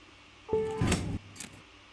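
A paper cup sound effect: a short tonal note followed by a brief rustling, crinkly burst at moderate loudness, then quiet.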